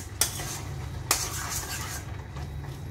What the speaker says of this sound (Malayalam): ആദ്യം ഇതൊന്ന് ഇളക്കി കൊടുക്കാം